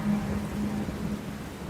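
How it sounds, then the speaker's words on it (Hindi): Steady rain falls in a continuous wash with a low rumble suggesting thunder, while a faint tonal hum pulses underneath and nobody speaks. "बारिशें आ गई"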